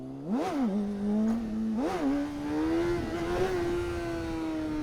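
A motorcycle revs and accelerates hard in first gear, its engine note climbing in pitch with a couple of quick throttle blips before settling into a steady, high drone. The engine is close and loud, and nobody speaks.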